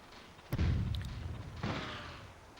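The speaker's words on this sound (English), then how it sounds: "Run away from that grenade." A grenade explosion in the PlayStation game Army Men: Land, Sea, Air: a loud close boom with a low rumbling tail, followed about a second later by a second, softer blast.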